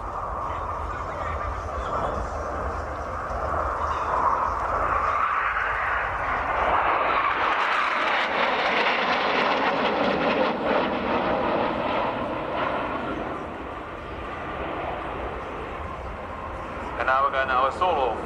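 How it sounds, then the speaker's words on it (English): Patrouille Suisse jets fly over in formation at an air show, a loud roaring engine rumble that swells and shifts pitch as the aircraft pass, with crowd and announcer voices mixed in. "the Patrouille Suisse in formation Tango"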